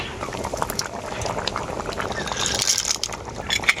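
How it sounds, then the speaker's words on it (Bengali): Curry broth for neem shukto bubbling in an uncovered pot, a continuous close burble of boiling liquid with occasional louder pops. "ঢাকাটা খুলে দেওয়ার পর ঝোলটাকে আবারও কিছুক্ষণ ফুটিয়ে নিয়েছি"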